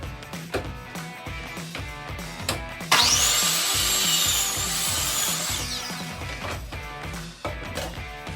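A length of plywood being cut to size for a weight bench top, with a power saw running loud and close in one sustained burst of several seconds, framed by clattering and knocking on either side.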